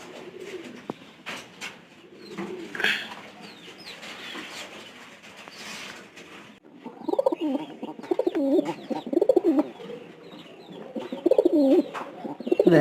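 Pigeons kept in a loft cooing, first soft scattered calls and fluttery sounds, then louder, repeated throaty coos close by, without any talk.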